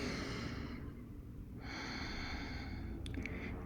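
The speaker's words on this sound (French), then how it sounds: "Encore une respiration profonde." Slow, deep breaths during a Hatha yoga session, a long airy exhale followed by a pause and another breath, close and alone without talk.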